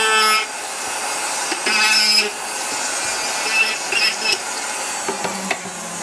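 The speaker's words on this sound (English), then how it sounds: "clean it up with a little grind with my Fordham flex shaft grinder" A Foredom flex shaft grinder works on a ski boot shell, a high, steady whirring grind with brief pitch changes and small pauses as the tool is moved across the plastic, heard close up.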